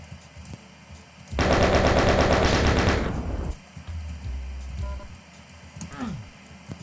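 Rapid chain gun fire in a video game, a dense loud burst of about two seconds that trails off, followed by quieter mechanical game sounds and a short whoosh.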